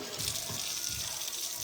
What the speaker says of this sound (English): I'm just going to put some soap and water in here at least so it can be soaking.